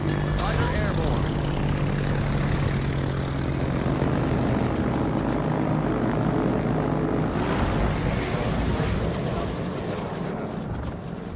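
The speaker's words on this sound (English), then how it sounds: "Fighter airborne." Propeller fighter aircraft engine from a video game drones loudly and steadily throughout, a continuous low roar that swells slightly near the end, with a person talking over it.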